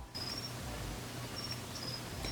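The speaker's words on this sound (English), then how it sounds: "The problem with crickets is they chirp all night and all day" Faint, thin cricket chirps come in a few separated bursts over a steady low hiss.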